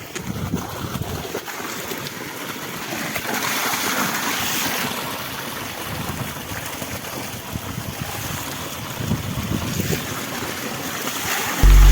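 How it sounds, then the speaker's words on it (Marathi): An electric water pump motor runs to irrigate a sugarcane field. It makes a steady, fairly loud broadband drone with some rushing water and gusty wind noise, and nobody speaks. "चालू झालं बघ मोटर."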